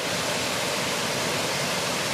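Steady rushing roar of a waterfall beside a wild hammock camp in a valley, dense and close, continuous with no voices.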